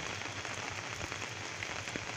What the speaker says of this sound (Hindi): अब देखो, बारिश आई है